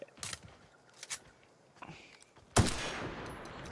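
Gunfire from a weapon in the video game The Outer Worlds: a few short sharp shots early on, then one loud close blast with a ringing tail, among faint footsteps.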